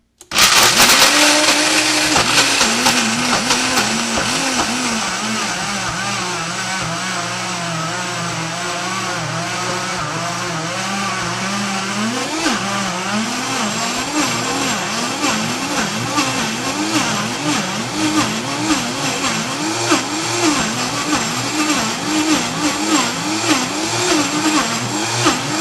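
A high-powered blender grinds almonds and dates, starting with a loud roar and settling into a harsh, churning motor whir whose pitch wavers and surges as the thick mixture catches and releases, continuous throughout.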